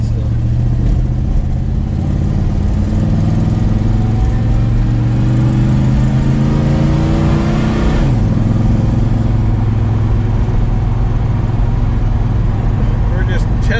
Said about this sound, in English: We're just testing out the carburetor, see how it seems to be running good. It's not sputtering or nothing.